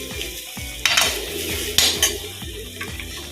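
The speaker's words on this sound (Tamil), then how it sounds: "நல்லா கிண்டி விட்டுக்கலாம்." Ground coconut being stirred through hot melted ghee in a pan for a tapioca pearl sweet, with a scraping spoon and a soft sizzle over steady background music, alone without talk.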